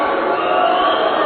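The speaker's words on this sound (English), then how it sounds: "Crowd booing again." A crowd at a Thailand versus China volleyball final boos in a continuous, even wash of voices with no clear breaks.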